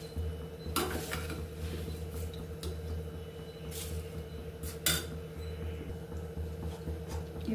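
Washed rice tipped into coconut milk in a cooking pot for a coconut milk pulao, heard as soft clinks and scrapes of utensils against the pot with a couple of sharper knocks over a steady low hum.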